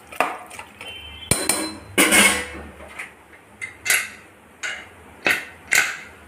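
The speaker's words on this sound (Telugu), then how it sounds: "కుక్కర్ మూత పెట్టేసుకున్నాం" Pressure cooker lid being fitted onto the pot of gokkarkaya curry: a run of sharp metallic clanks and clinks close by, spaced irregularly over several seconds, with no voices.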